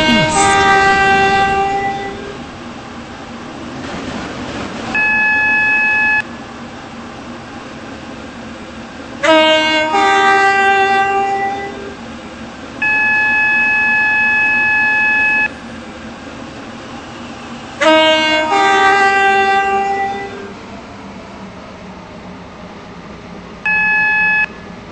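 A Roblox class 357 train in the game SCR runs along with a rumbling rail drone, broken by repeated electronic beeps and tones that start and stop in blocks.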